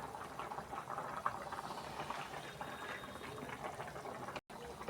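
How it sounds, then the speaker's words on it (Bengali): A thin, green leafy-greens curry broth boils in a pot, making a steady, soft bubbling hiss that runs unbroken for about five seconds apart from a momentary dropout near the end. It is close and quiet, with no talking. "এই দেখো ঝোল ফুটে গেছে"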